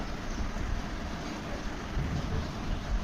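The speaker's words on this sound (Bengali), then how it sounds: "তো বৃষ্টি শুরু হয়ে গেছে" Rain falls steadily in cool, cloudy weather, a soft continuous hiss-like wash with low rumbling underneath, fairly faint and without voices.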